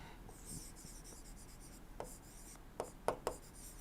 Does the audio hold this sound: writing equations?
yes